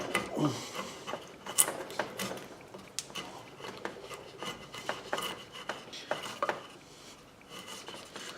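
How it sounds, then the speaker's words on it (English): Irregular light wooden taps and scraping as a small short-handled hammer drives a chisel into splintery wood for a model boat, several sharp knocks spaced unevenly over a rough rubbing background, close and moderately quiet. "I've kind of got this new hammer for my little chiseling"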